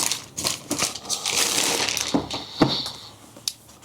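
A Bingo Toys BT008-01 Hertz transforming figure being pulled from its plastic bag, with close crinkling and rustling plastic plus a few sharp clicks and crackles, no talk.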